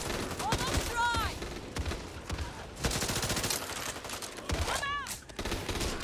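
Assault rifle fire in the zombie shooter Back 4 Blood, dense rapid volleys with sharp shot transients, mixed with chaotic game effects and whining, rising tones, loud and continuous throughout.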